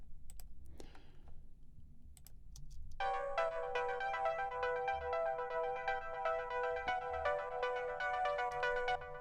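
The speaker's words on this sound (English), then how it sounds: "And a fairly dissonant diva sound there." A dissonant Diva synthesizer patch enters after a few seconds of near silence with faint clicks, then holds as a dense, bright, sustained chord with flickering upper partials, loud and steady to the end.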